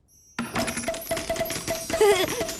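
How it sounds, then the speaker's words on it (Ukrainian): A single coin drops into a piggy bank in a cartoon scene, giving a bright metallic clink followed by a short rattle and ringing, with a light musical tone underneath. "Я покладу її до скарбнички."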